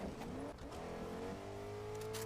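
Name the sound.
truck engine in a video game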